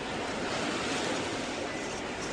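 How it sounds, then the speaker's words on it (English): Ocean waves roll in on a beach as a steady, loud wash of surf noise that fills the whole moment without pause or voices. "Guess it's the waves rolling in."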